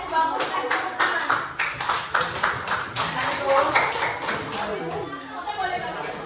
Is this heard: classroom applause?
yes